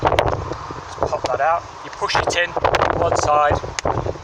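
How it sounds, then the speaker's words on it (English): Strong gusty wind buffets the microphone in low rumbling bursts while someone talks close by over the blustery noise, working at an open car door. "Sorry about the background noise, it's exceedingly windy."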